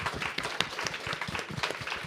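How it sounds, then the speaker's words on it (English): Audience applause for a skincare and wellness group, a steady patter of many hands clapping at moderate volume throughout, with scattered sharper claps standing out. "I'd like to just give our Beauty Triangle a round of applause."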